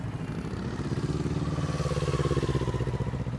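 Motorcycle engine idling and running steadily during advanced slow-speed riding practice on a course, a continuous low rumble with slight throttle swells, fairly close and alone.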